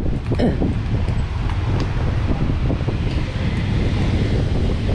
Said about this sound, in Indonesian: Anginnya cukup kencang teman ya.